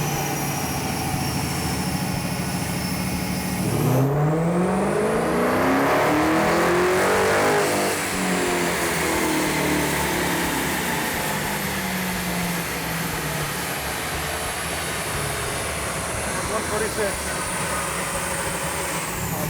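High-horsepower Dodge engine revving on a chassis dyno, a loud idle suddenly sweeping up into a roaring full-throttle pull, then holding a heavy, sustained drone; brief voices in the background.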